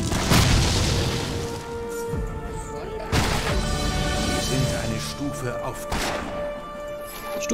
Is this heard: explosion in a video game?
yes